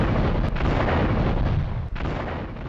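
A ship blows up in Grand Theft Auto 3, a loud, sustained rumbling roar of explosion with a couple of sharp breaks, heard alone without voices.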